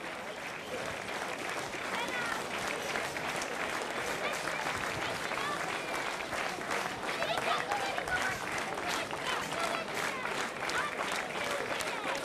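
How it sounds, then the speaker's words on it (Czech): Stadium spectators at a legends football match between SK Líšeň and SK Slavia Praha applaud both teams after a 2-2 draw, a dense, sustained clapping that swells slightly midway, with a public-address voice faintly underneath. "A ten potlesk teď byste mohli ještě jednou a stupňovat, dámy a pánové."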